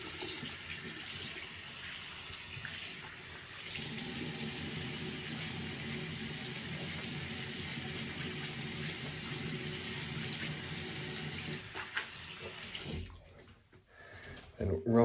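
Tap water runs steadily into a bathroom sink to rinse a brass-head Karve Overlander safety razor, a continuous close splashing flow that cuts off near the end.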